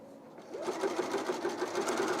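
A sewing machine starts up and stitches along a strap for a top, a close, steady rhythmic whir after a brief quiet moment.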